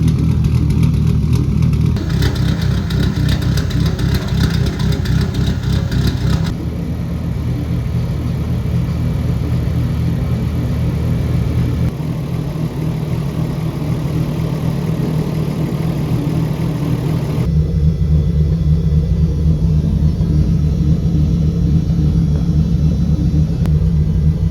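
A Nissan C33 Laurel's engine idles after a VCT tune, with a deep, lumpy rumble that shifts in tone a few times across the stretch, loud and close with no voices.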